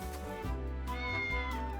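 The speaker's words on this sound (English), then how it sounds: "Oh, it's a cat." A cat meows in the video game Triangle Strategy, with a clear, drawn-out call sounding close and fairly loud over steady game music.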